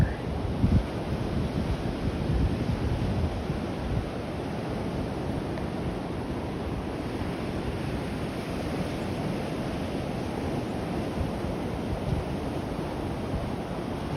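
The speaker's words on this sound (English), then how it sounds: "Now it looks like the wind might be coming directly from the west." Ocean waves washing onto a beach at sunrise as a west wind blows across the microphone, a constant broad rushing roar with gusty buffeting, steady and moderately loud, no voices.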